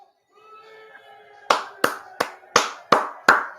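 One person claps hands six times in a quick, fairly even rhythm, close and sharp, while watching a darts championship match, after a faint hum of background broadcast sound.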